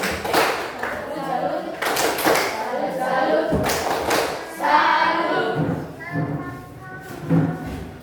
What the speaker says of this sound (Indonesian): Tepuk salut.